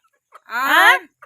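A single drawn-out hen vocalization, a rising, slightly raspy call lasting about half a second, close and clear, with brief faint sounds around it.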